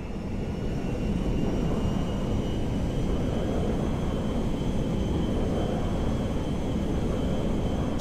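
A jet aircraft in the video game GTA 5 flies with a continuous, even engine roar and a faint high whine, steady throughout with no voices.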